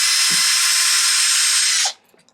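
A power drill or driver spins off a bolt from the shock tower of a Traxxas XO1 RC car, a loud steady whir lasting about two seconds before cutting out, followed by faint small clicks.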